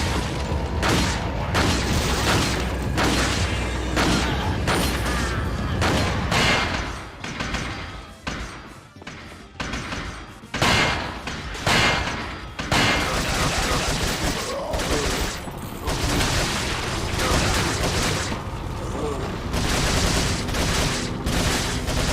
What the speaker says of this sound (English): the Red 9 is a beast in combat and sound, getting a headshot that has a visceral sound much like the other entries in the series as well